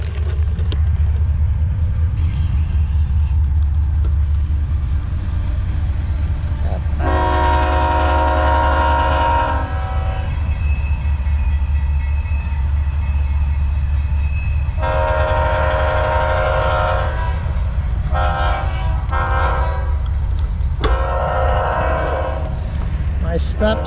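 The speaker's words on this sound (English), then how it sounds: "I can hear a train coming right now, so it's gonna be coming over behind us." A passing train sounds its horn in several long, loud blasts over a constant low rumble of wheels and cars near a bike path, with the horn returning in shorter bursts toward the end.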